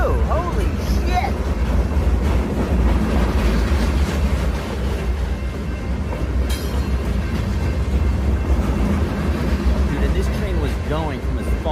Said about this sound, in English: I could see that I had to wait at a train